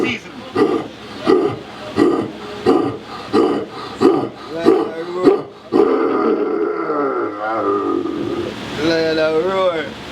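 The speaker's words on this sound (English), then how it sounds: "The lion roar. That's a male lion." A male lion roars in a series of rhythmic, loud grunting pulses that speed up, then trail into drawn-out moaning calls near the end, close and unaccompanied by talk.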